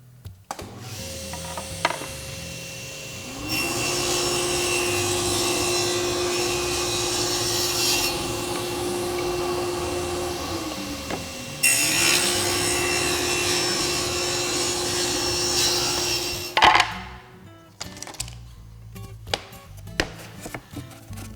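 Table saw cutting a dado in 1/4 inch plywood, a steady motor whine with the blade biting through the wood in two sustained passes, then the motor spinning down amid a few knocks and clatter.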